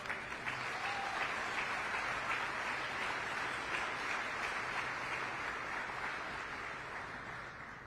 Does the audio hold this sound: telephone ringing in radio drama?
no